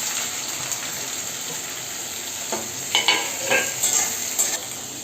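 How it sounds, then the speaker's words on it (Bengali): Onions frying in hot oil with whole garam masala, cumin seeds and chillies for mutton korma, a steady broadband sizzle with a few louder stirring scrapes and spatters toward the end. "তেলের মধ্যে পেঁয়াজটাকে দিয়ে দেব।"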